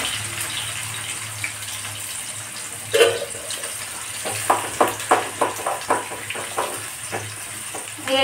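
Grains frying in hot oil in a home kitchen, a steady background sizzle with a low hum, broken by a cluster of crackling pops and splatters in the second half.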